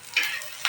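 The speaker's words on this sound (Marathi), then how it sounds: "आता मी बघा 4-5 पाकळ्या लसणाच्या टाकून घेते" Garlic cloves dropped into a hot pan for Maharashtrian green chilli thecha give two short sizzling bursts of frying, one near the start and one at the end, with a steady hiss of cooking between them.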